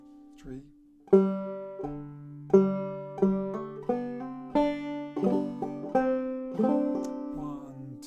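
A clawhammer banjo plays the opening phrase of Red Haired Boy solo. Plucked notes ring out close and clear in a lilting three-count pattern with hammered-on notes.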